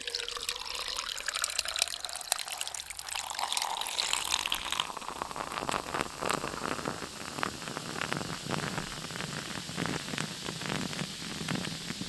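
Liquid is poured into a cup indoors, a steady close splashing stream with dense bubbling and trickling that continues throughout at moderate level.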